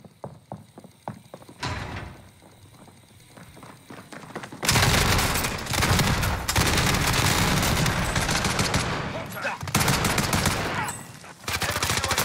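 Gunfire in the video game Warzone: a few sharp single shots at first, then loud, sustained automatic bursts that fill most of the stretch, with one brief pause before the firing resumes.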